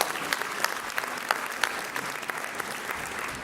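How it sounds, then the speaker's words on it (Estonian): Applause from a school concert audience honoring mandolin players, steady dense clapping with scattered louder individual claps, moderately distant throughout. "Teeme aplausi kõigi mandoliinimängijatele."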